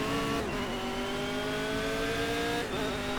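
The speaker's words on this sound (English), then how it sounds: "Many of the new cars and project cars do sound very generic." Race car engine in the Project CARS racing game, a steady high-pitched drone with sustained revving and gear-shift dips near the start and end, loud and close with no talking.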